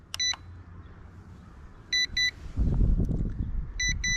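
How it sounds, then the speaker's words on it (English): Drone controller for an Attop W70 GPS drone emits three short bursts of bright electronic double beeps, spaced about two seconds apart, during its return-to-home flight, with gusty wind rumble in between and no voices. "we're getting a beeping on the controller here"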